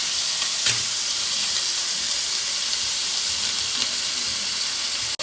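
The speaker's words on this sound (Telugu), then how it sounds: "కొంచెం పచ్చివాసన పోయేదాకా వేయించాలి అల్లం వెల్లుల్లి పేస్ట్ కొంచెం పచ్చివాసన పోవాలి" Ginger garlic paste fries in a pan for a chicken curry, giving a steady, close sizzle and hiss with occasional faint stirring scrapes and no talking.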